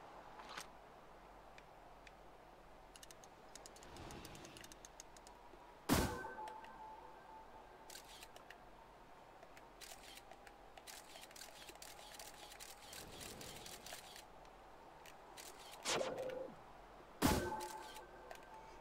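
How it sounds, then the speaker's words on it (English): In the video game Outer Wilds, the scout launcher fires with sharp mechanical clicks and thunks, one at a time and spaced well apart over a faint, steady ambient hum. "Scout launcher."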